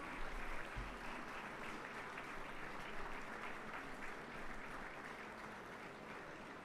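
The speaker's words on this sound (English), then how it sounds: "Ladies and gentlemen, please give them a big round of applause." An audience at a railway week celebration applauds continuously in a hall, steady faint clapping heard from a distance with no break.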